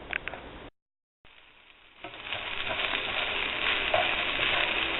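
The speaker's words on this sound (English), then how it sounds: "You want to keep stirring it." Fried rice with vegetables and soy sauce being stirred in a pot, a steady sizzle and scraping that drops out briefly near the start, then builds and holds at a moderate, close level.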